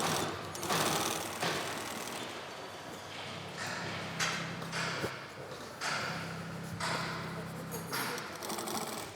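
A sewing machine stitches a large boxspring bed cover in short rhythmic bursts of rapid clattering, starting and stopping repeatedly, heard at low level amid workshop background.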